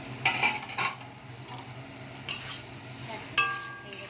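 A lid is lifted off a pot of fish steamed without water for Bengali sim paturi, with a few light metallic clinks and scrapes against a soft background hiss and faint sizzling.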